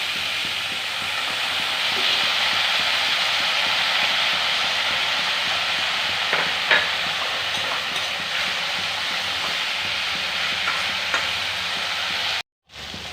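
Banana flower curry with lentil fritters sautés in a pan with a loud, steady sizzle and occasional stirring knocks, cutting out briefly near the end.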